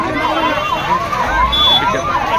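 An ambulance siren wails in repeated rising and falling sweeps, loud and steady, with people talking over it.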